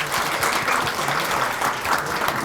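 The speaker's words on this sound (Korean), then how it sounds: "박수!" Audience applause at the opening of a water-management policy seminar, a dense steady clapping from many hands filling the room throughout.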